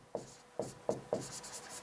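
Writing on a board during a maths lesson makes four short, close scratchy strokes in an uneven rhythm, with no talking over them.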